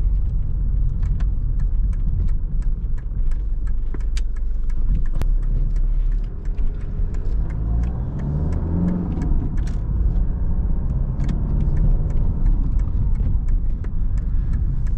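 A Mercedes W124 200D diesel car engine runs steadily with a low, constant rumble and a faint rhythmic ticking, rising slightly in the middle before settling back.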